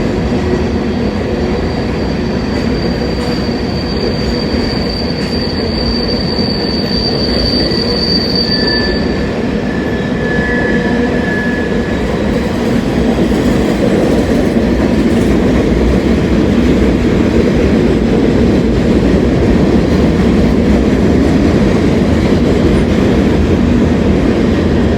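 Freight train of boxcars, including a Canadian American Railroad car, rolling past at Kenova with a loud steady roar and rumble of wheels, a high wheel squeal in the first seconds and rattling clatter throughout.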